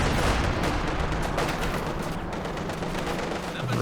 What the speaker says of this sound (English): Scaredbox must have been going after the Katyusha again with another barrage.